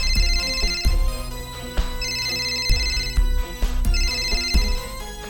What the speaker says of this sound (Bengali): কাশিমামা ফোন করেছে।